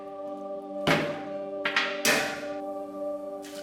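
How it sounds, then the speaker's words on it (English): Soup bones drop into a larger cooking pot for Turkish beans with meat, giving a few heavy thunks and clatters against the metal over a low steady hum. "Add bones to a larger pot."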